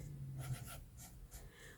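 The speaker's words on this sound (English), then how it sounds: "let me just write this down" Pen or pencil scratching out numbers by hand on paper while adding up debts, a few short faint strokes close by in a quiet room.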